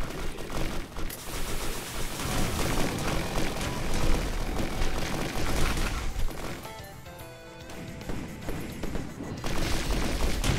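Dense, continuous gunfire and explosions from the video game Risk of Rain, loud and layered over busy in-game effects, with a brief dip before the barrage resumes.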